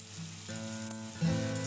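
Chopped onions hit hot oil tempered with bay leaf and cumin seeds, a close, steady sizzle that swells louder near the end as more onion goes in.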